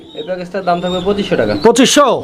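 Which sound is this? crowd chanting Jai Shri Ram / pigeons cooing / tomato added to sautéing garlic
pigeons cooing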